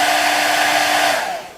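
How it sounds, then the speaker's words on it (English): A hair dryer blows loudly and close up with a steady whirring hum, then winds down and fades as it is switched off near the end. "We're going to take a hair dryer"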